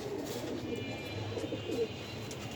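Pigeons at a breeding farm coo softly and continuously nearby, overlapping low throaty calls over a constant background hum.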